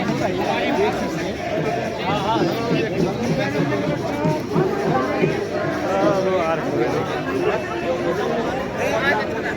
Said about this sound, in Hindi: फुल भीड़ हो रखी है यहाँ पे